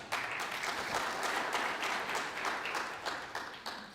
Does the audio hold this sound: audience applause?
yes